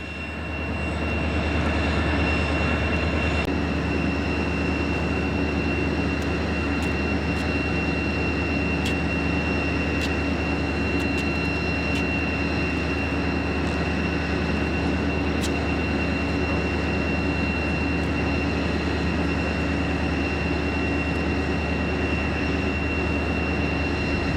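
A continuous low rumbling drone of a DSB EA electric locomotive train running on a test run between Lundby and Ringsted, Denmark, with steady electrical hum and occasional faint clicks, no speech.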